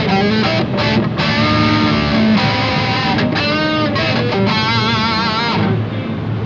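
Heavily distorted Constantine electric guitar through Screaming Demon and Seymour Duncan distortion pickups plays dense, bright chords and riffs at NAMM 2024, loud and continuous with sustained notes ringing out, no voices.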